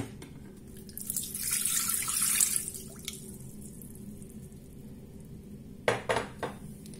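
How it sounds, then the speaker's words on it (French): Water pours briefly into the bowl of a Monsieur Cuisine Plus mixer for pizza dough, a soft close splashing stream lasting a couple of seconds, followed later by a few light clunks of kitchenware. "Je vais commencer par mettre dans mon bol l'eau."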